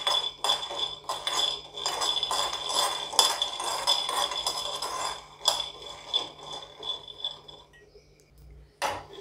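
Peanuts dry roasting in a pan on low flame, a spoon scraping and clinking against the metal in repeated uneven strokes, then a brief pause before one last clatter.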